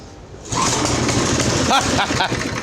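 Craftsman 5hp rear tine tiller engine catching on its first recoil pull, a loud, steady motor roar building up and continuing with a voice briefly over it.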